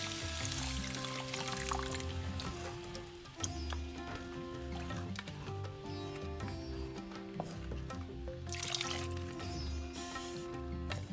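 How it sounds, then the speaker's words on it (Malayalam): Boiling hot water poured into sizzling shrimp masala for a Kerala-style prawn curry, a close, continuous splashing gush over the hiss of the hot pan with a faint steady hum behind, lasting throughout without speech. "ഇതിലേക്ക് ഞാൻ നല്ല ചൂടുവെള്ളമാണ് ഒഴിക്കുന്നത്"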